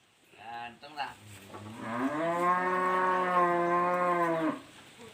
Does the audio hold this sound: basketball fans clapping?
no